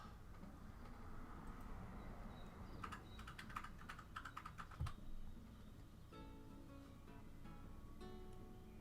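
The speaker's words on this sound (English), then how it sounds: "you can listen to his typing" Quiet keyboard typing in quick bursts of clicks, pausing and resuming, over a low background hum.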